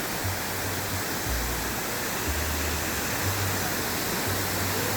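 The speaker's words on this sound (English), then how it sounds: "These are putting some water up in the air." Large water fountains at the Kings Dominion amusement park shoot water into the air, giving a steady, loud, broadband rush like a waterfall, with a low pulsing rumble underneath.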